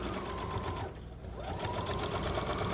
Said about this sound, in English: to top stitch it, tacking this straight and going straight over and tacking it this down as well